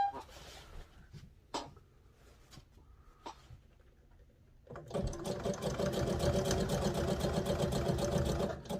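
A sewing machine stitches an elastic waistband straight over pins. A few sparse clicks and taps come first, then the motor kicks in with a loud, fast, even chatter that runs close up to the end.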